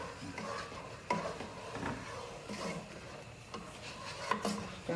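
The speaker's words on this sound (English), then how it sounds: "we're stirring this cream sauce" A spoon stirs cream sauce in a pot for baked cheddar macaroni and cheese, producing soft repeated scraping strokes with faint utensil knocks, quiet and close.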